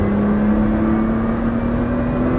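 A Nissan GT-R accelerates hard on a race track, its engine a loud, steady droning roar heard from inside the car, with no talking.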